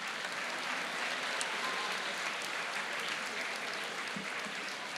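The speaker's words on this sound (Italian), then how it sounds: "Il premio, un applauso per Agata." An audience gives Agata steady, even applause as she receives a prize. The dense clapping is soft and slightly distant and keeps going without a break.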